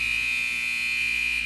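A netball game buzzer sounds as one steady, loud, piercing electronic tone that holds for the whole moment without a break.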